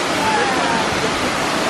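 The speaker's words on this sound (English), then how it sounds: "Second waterfall for the day in Martinique." A waterfall in Martinique pours with a loud, steady rushing roar heard up close, a dense unbroken wash of falling water throughout.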